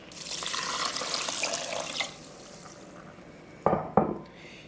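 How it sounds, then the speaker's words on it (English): Three cups of water pour steadily into rice in a pot for about two seconds, then the stream quiets, followed by two sharp clanks of kitchenware. "Now we're gonna add 3 cups of water."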